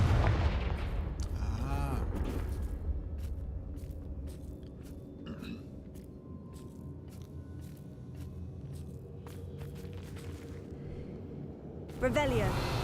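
Confringo blasting-curse explosions in the game Hogwarts Legacy, with a heavy boom at the start and another near the end, sharp crackling impacts between them, and a voice talking over parts of it.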